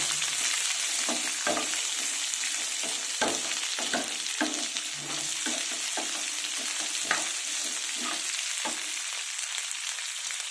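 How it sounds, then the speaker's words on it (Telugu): Sliced onions fry with bitter gourd in a pan, a steady sizzle broken by repeated scraping strokes of a stirring spoon, close and moderately quiet. "ఇప్పుడు 2 మీడియం సైజ్ ఉల్లిపాయలు కట్ చేసి పెట్టుకున్నాను, అవి కూడా వేసేసుకున్నాను"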